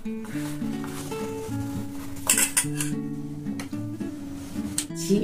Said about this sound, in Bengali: তো এইভাবে রসে পুরো মিশিয়ে দিতে হবে।